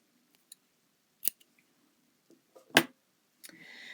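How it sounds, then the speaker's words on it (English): Scissors snip through crochet yarn at a finished coaster, two or three sharp close cuts in a quiet room with small handling rustles between them. "cut my yarn"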